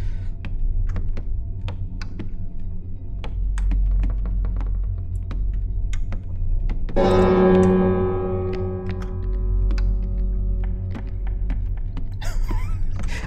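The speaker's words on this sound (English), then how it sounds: "Oh, there's another bell." In the ghost-investigation horror game Remnant Records, a single bell strikes over a low throbbing hum and scattered ticks, ringing out with a long resonant decay that fades over several seconds.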